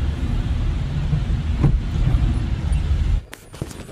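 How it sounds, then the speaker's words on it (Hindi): Steady road traffic rumble in Jagatsukh main market near Manali, with stuck trucks and cars idling and creeping close by, a continuous low drone that drops away sharply near the end. "यहाँ पे हमेशा यार ऐसा ही ट्रैफिक रहता है, सारे के सारे ट्रक फंस गए हैं।"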